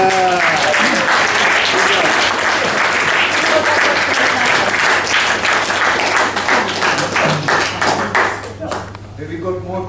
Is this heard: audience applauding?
yes